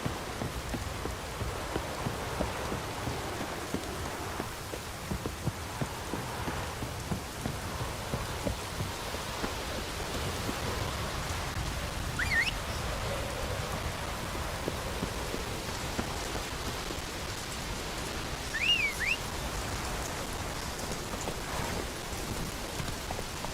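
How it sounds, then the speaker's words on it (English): Steady rain pours down across an outdoor scene in The Witcher 3, a continuous dense patter on surfaces with a brief faint chirp in the distance, no voices. "Looks like rain."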